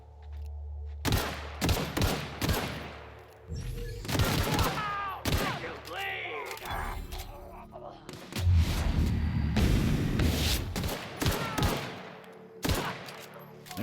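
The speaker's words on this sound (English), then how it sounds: "Or we could just shoot him in the head." Gunfire from The Outer Worlds video game, in the main quest Stranger in a Strange World, fires as repeated sharp shots and booming bursts over a low rumble, with in-game voices heard between volleys.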